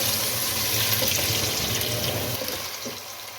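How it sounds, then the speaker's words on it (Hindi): A steady rush of running water poured into a frying pan of chicken pulao, with a faint sizzle underneath, fading slightly toward the end. "थोड़ा सा इसमें पानी डाल दें"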